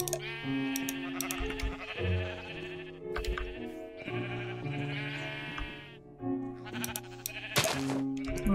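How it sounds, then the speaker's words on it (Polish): Sheep on a Minecraft farm bleat over and over, several loud overlapping calls in a nearly continuous stream, with no talking. "Wiecie, jak ja nienawidzę, jak te owce tak muczą."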